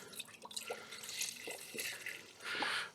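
Coolant drains out of a Honda Civic Type R once the drain plug is pulled, giving a steady liquid trickle with scattered drips and a louder gush near the end, heard alone.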